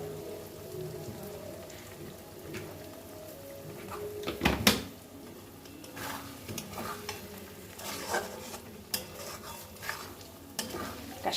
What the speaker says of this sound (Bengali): এই যে আমার আলুর দমটা তো হয়ে গেছে, আমি এর মধ্যে এখন একটু গরম মশলা দিয়ে দেবো